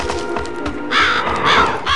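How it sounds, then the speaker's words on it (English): Crows in the Psychonauts video game give loud, near caws, two or three harsh calls in quick succession over a steady background hum. "Have you crows seen a..."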